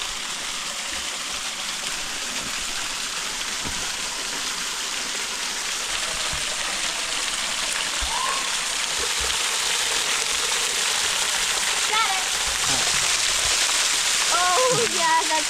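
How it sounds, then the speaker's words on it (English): A waterfall at Desoto State Park roars in a steady, broad wash of rushing water heard from close by. Voices talk briefly over it near the end. "let's go underneath the falls"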